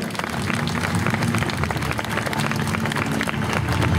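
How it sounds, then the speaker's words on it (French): Steady applause from a crowd at a medieval festival in Condé-sur-l'Escaut, dense clapping filling the whole stretch at a constant loud level with no speech on top. "On peut l'applaudir."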